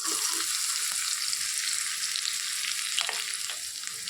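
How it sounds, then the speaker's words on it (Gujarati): Onions and chilies sizzle hard in hot oil with asafoetida, a dense, bright, continuous frying hiss close up, with a couple of faint stirring knocks and no speech. "આપણું તેલ સરસ ગરમ થઈ ગયું છે, આપણે હિંગ નાખી દીધી છે અને હવે ડુંગળી અને મરચાં એડ કરી દઈશું"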